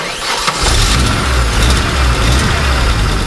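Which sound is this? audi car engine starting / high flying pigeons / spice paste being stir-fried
audi car engine starting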